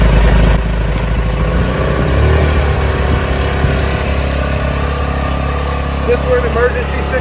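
A portable generator engine runs after being pull-started, a steady mid-pitched idling drone beneath people talking nearby, fairly loud and continuous throughout.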